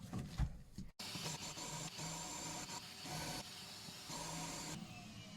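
A small drill bit, slightly larger than the last, bores into a Seiko 7T32 watch part with a continuous fine whirring hiss after a brief handling knock.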